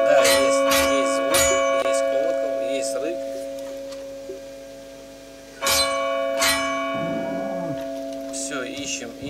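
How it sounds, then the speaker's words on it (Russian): A bell struck repeatedly in Far Cry New Dawn, with bright ringing strikes that sustain long, resonant tones, arriving as an early cluster and then a second pair of hits midway while someone talks over them. "Так, вот он колокол. Ну, стучать, наверное, надо."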